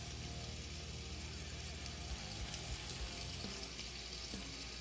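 A New York strip steak seasoned with salt and butter fries in a pan with a steady, even sizzle, fairly quiet and continuous with no talking.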